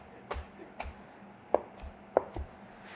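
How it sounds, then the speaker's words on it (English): A chef's knife chops through an onion on a cutting board in several crisp, irregular taps, close and clear with no talking. "line it up and then cut it."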